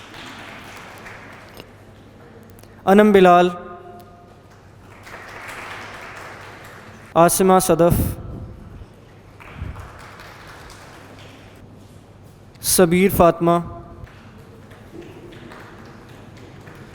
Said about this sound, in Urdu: جی آپ تالیاں بجا سکتے ہیں ان کے لیے